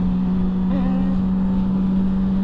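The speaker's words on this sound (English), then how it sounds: "am tuning it up. Tuning up a street bike." Street bike engine idling during a tune-up, a loud steady drone with a strong, even hum that briefly rises in pitch before settling, heard close and alone.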